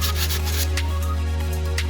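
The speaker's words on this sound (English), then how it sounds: "So I'm just going to use some sandpaper on it just to clean it up a bit." Sandpaper rubbed by hand over the rusty pipe end of an oil cooler for an Alfa GTV, a steady close scratchy abrasion that runs continuously for the whole stretch with brief brighter strokes.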